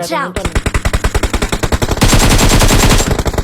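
Rapid automatic gunfire in PUBG Mobile, a loud sustained burst of evenly spaced shots that thickens into a denser volley halfway through, with a brief voice near the start.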